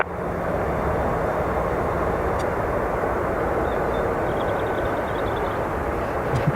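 A fixed-wing airliner at Dublin Airport gives a continuous low, broadband rumble that holds steady and fairly loud throughout, with no speech over it.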